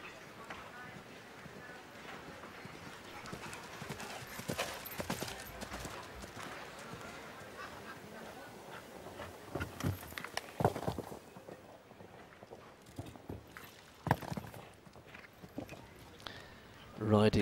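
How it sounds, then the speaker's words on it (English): Show jumping horse's hooves clip-clop across the arena at a moderate distance, with an irregular rhythm and some louder thuds late on, under continuous commentary from a voice. "Riding this very, very experienced horse, Nasser."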